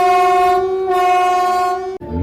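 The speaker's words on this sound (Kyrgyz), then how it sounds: "Биринчи жүргүнчү поезди келе жатат" A passenger train arrives on the newly built Balykchy–Kochkor railway, its horn blowing one long, loud, steady harmonic blast with a brief dip partway, then cutting off into rumbling wheel and engine noise.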